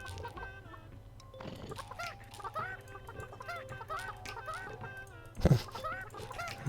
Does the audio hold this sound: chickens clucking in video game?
yes